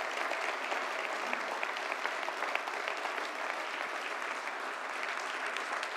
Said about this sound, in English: Please give a big round of applause for Si Bellamy, OBE.